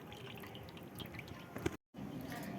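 Liquid drips softly from squeezed, grated raw mankochu (giant taro) paste into a bowl, a faint, close trickle with small splashes broken by a brief silence.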